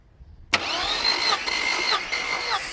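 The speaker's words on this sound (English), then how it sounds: "So I want to bypass the use of key to crank it, so I'll just use some of these wires here, and then I'll just short them." A Mercedes W124 engine, hot-wired by shorting wires instead of using the key, cranks briefly and catches, then settles into a steady, loud idle with slight rises in pitch, close to the microphone and without speech.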